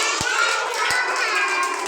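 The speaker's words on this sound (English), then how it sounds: "Clap your hands. Listen to your ma'am. And clap your hands." Children clap their hands in a classroom, two distinct claps spaced apart amid steady, noisy chatter and voices.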